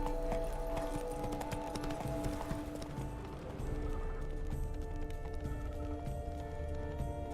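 Hooves of Roach, a horse in The Witcher 3: Blood and Wine, clip-clop at a gallop in a steady rhythm across the whole stretch, set against a constant game ambience with tonal music beneath.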